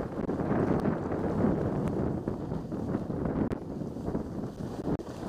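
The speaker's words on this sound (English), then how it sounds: "But up here, the big number is 45 mile an hour wind." Strong 45 mph wind roars across the mountain summit at the Stratton ski area on a cold morning, a dense, continuous rush of gusty buffeting noise close against the microphone.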